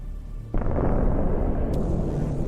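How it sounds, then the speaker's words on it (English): A Russian armoured vehicle explodes after a drone strike, a sudden deep boom that turns into a sustained rumbling roar, with a brief crack partway through. "Look at this hit and the explosion from another drone that was adjusting the artillery fire."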